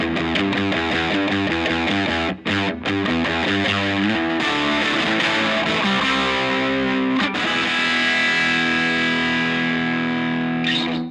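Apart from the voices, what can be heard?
electric guitar through stacked Tube Screamer and DS1 distortion pedals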